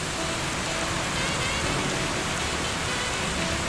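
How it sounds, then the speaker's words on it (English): Heavy rain pouring down during a thunderstorm, a loud, unbroken wash of dense drumming hiss that stays constant from start to finish. "It just won't stop raining."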